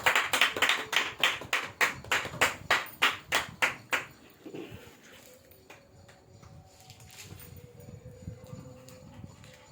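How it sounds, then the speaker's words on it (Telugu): A church audience claps in a quick, even rhythm of about a dozen loud, close claps to welcome a preacher. The clapping then falls off into scattered faint taps and room murmur. "అందరం చప్పట్లు కొడుతూ దైవజనులను ఆహ్వానిద్దాం"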